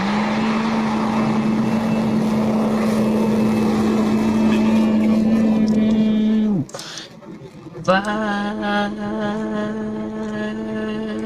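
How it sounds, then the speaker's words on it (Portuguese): Rocket Lab Electron rocket launching from New Zealand, a loud steady engine roar with a strong droning hum that cuts off abruptly, followed by a tonal rumble, under excited commentary. "Vai, foguete Electron rasgando os céus da Nova Zelândia."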